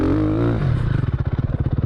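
A Ducati Desmo450 dirt bike rides onto a stubblecross track, the engine dropping from a high rev into a fast, pulsing staccato beat that stays close and loud.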